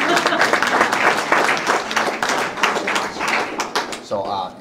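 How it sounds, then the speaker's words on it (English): Audience applause at a presentation, steady clapping from a crowd lasting a few seconds with a voice speaking over it near the end. "Give him a round of applause."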